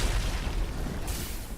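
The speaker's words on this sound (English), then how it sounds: "It is a close combat explosion, but it's got a reasonable range on it" A close-range explosion spell from a Wizard in Diablo 3: Reaper of Souls fires off as a dense, rumbling boom that sustains steadily throughout, with a brighter burst of crackle near the end.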